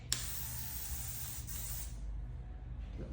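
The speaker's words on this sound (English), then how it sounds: "do a little spray" A Hypersonic Heat Styling Mist bottle gives a quick pump spray onto hair, a short crisp hiss lasting under two seconds, close and fairly quiet, before fading to soft room noise.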